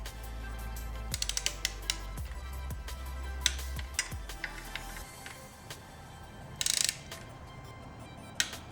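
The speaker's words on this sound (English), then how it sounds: "All right, so let's torque this bad boy on here." A ratchet torque wrench clicks rapidly while tightening timing chain cover bolts on a Ford 302/351 V8, close up, in several runs of quick ratcheting with brief pauses between them.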